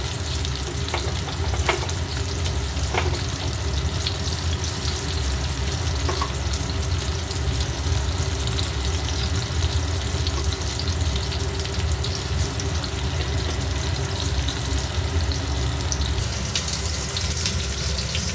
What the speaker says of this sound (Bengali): এক খোলা তুলে নিয়েছি আর বাদ বাকি যেগুলো ছিল ওগুলো ভাজতে দিয়েছি